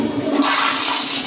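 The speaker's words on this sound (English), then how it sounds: "this toilet is the coolest toilet I have ever seen" A house toilet with strong suction flushes loudly and close, a sudden rushing whoosh of water that swells and holds steady, with no voices.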